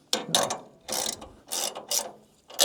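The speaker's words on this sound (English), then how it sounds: "Or a socket set would be just as good." A socket set ratchet turns on a Grasshopper mower, giving several short bursts of rapid clicking with brief pauses between them, close and moderately quiet.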